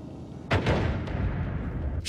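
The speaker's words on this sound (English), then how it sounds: "Oh, it's gunpowder. Maybe I should... You know what? I think I'm gonna make a big explosion." A big gunpowder blast set off by gunfire inside a gunpowder room in a multiplayer strategy video game, heard as a sharp booming burst followed by a second hit and rumbling tail, with a faint later pop.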